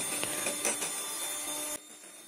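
An electric mixer beats egg whites at high speed toward soft peaks, a close, steady whirring drone that cuts off abruptly near the end, leaving a quiet room.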